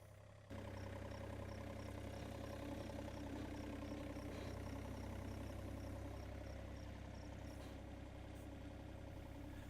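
A John Deere compact excavator's engine idles in a steady, low, continuous drone throughout, close and unvarying, with no voices.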